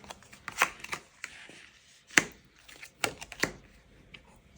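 Tarot cards drawn and handled, with sharp papery snaps and slides arriving in irregular bursts against quiet gaps, close up.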